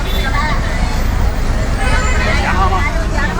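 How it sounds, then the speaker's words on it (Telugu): A bus pulls in at a roadside stop amid busy traffic, its engine rumble low and steady under a hubbub of nearby voices and chatter, with passing road noise throughout. "లేట్ అయింది. వచ్చిందిగా బస్సు."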